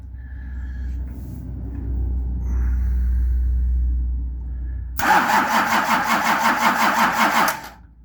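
A Nissan LD28 diesel engine, not run for years, hums low during glow, then cranks loudly with a rapid rhythmic churning for a few seconds before stopping.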